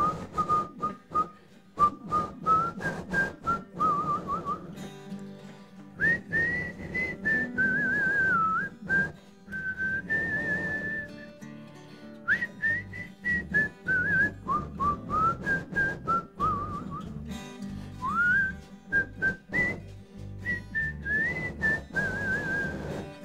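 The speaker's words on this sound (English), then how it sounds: "I like to do a little whistling here first" A person whistles a slow, lilting melody in clear sustained phrases, with short breaths between lines and soft accompaniment underneath.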